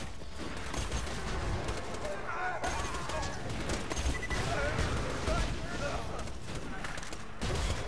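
Rapid pistol fire in the video game Borderlands 2 sits amid busy game noise and clatter, with a player talking over the action.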